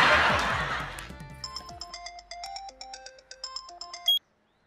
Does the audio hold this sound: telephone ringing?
yes